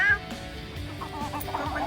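Several chickens cluck in a backyard among fruit trees and a fallen mango tree, short irregular calls close by over low outdoor background noise.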